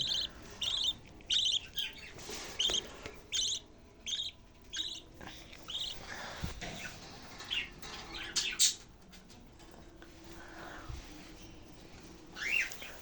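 Pet birds in breeding cages, parrots among them, chirp in short repeated bursts throughout, with some wing flutter and cage noise in the background.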